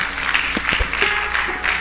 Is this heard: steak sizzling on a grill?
no